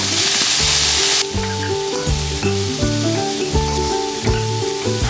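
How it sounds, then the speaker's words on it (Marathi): Thickly chopped onion sprinkled with a little salt drops into a hot pan for a tender coconut curry, giving a loud close sizzle burst that settles into a softer hiss under background music. "हा कांदा आहे हा चांगला व्यवस्थित जाडसर चिरून घेतलेला आहे हा यामध्ये टाकते थोडंसं मीठ"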